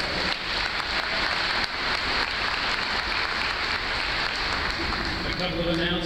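Sustained applause from a large keynote audience at a tech conference, a dense, steady crackle of clapping filling the room for several seconds.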